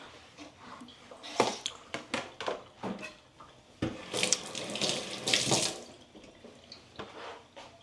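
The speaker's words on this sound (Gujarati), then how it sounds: "પાણીથી ધોઈ લઈએ" Tap water runs and splashes as tomatoes are rinsed under it, with irregular bursts of spattering and clinking, close and fairly quiet, no voices.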